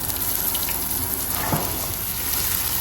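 Onions go into hot oil with mustard seeds for a dried anchovy curry, producing a constant hissing sizzle that stays close and fairly even, with one brief louder crackle partway through.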